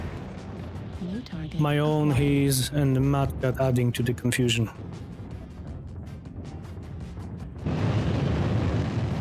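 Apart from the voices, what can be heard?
explosions in the video game MechWarrior Online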